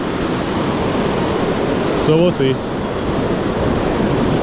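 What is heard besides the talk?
ocean surf waves on the beach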